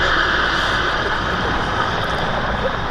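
A Czech Air Force Mi-35 helicopter from the 221st Helicopter Squadron flies at the Duxford Battle of Britain airshow, giving a loud, continuous engine and rotor roar that holds steady throughout.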